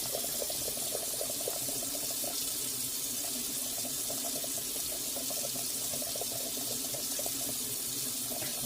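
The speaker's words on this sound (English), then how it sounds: "as I add that hot water, I'm going to briskly be just stirring, because I want to first get the lumps out" Hot water pours steadily into flour in a pot while it is briskly stirred to smooth out lumps for beef roast gravy, a continuous close splashing and running-water wash with no talking.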